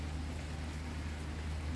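Rain falls steadily outside a house, a dense even hiss of drops on surfaces with no pauses and no voices.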